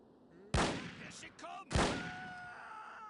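Two loud, sharp unsilenced pistol gunshots in a video game, about a second apart, close and booming, with a brief clatter between and a ringing tail after.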